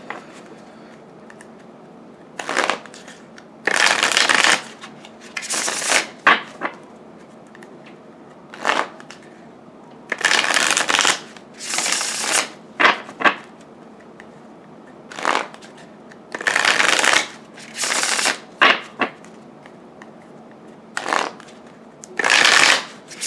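Tarot cards are shuffled in repeated quick riffling bursts, each lasting a second or two, separated by short quiet pauses, close and fairly loud.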